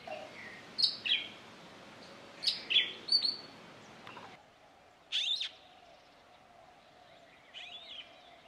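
An Oriental magpie robin sings alone, delivering several short, bright chirps and whistled phrases in scattered bursts against faint background hiss.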